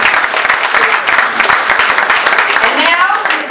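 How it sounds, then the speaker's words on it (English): Ladies and gentlemen at a special awards presentation to police officers from the 63rd Precinct give a loud, close round of applause, sharp individual claps among the crowd, with cheering voices mixed in. "let's give a round of applause"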